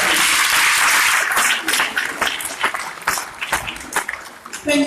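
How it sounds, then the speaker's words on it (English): Loud, dense applause from a sizeable seminar audience, strongest at first and then thinning into scattered claps that fade out. "Can you give yourselves a round of applause, please?"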